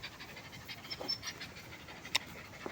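A dog pants quietly in quick, rhythmic breaths, close by but faint.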